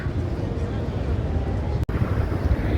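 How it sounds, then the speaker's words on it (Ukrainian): Steady, heavy wind buffets the microphone in a continuous low roar on the seaside promenade in Nice, with a brief dropout near the end. "Зараз трошки вітер"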